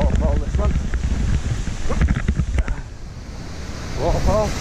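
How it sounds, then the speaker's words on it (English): Rushing water from a waterfall beside a trail: a steady, loud broadband roar mixed with wind buffeting on the microphone, with a couple of short vocal sounds near the start and end. "Right by the waterfall, this one."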